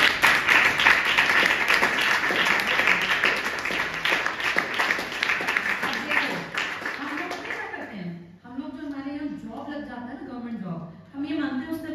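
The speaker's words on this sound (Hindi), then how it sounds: "इनके लिए तालियां बजाओ।" A group applauds a selected teacher with dense, close clapping for about eight seconds, then someone speaks over the fading claps.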